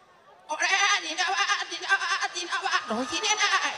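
A performer at a live Rangali Bihu comedy show imitates a goat's bleat with his voice, a loud wavering nasal cry lasting about three seconds after a quiet start.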